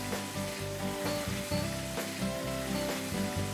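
Minced meat frying in a pan with a steady, loud, close sizzle that crackles continuously throughout, with no talking.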